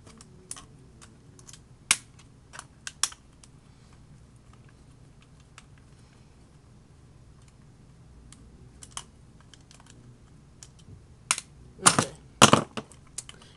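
Small screws being unscrewed from an Xbox 360 wireless controller, sparse light clicks and ticks of the screwdriver and plastic parts, close and quiet, with a louder burst of clicking rattles near the end.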